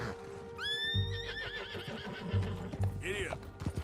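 A horse in the Red Dead Redemption 2 video game lets out a loud, rising whinny, then a second shorter neigh, while hooves clip-clop underneath and a voice speaks briefly.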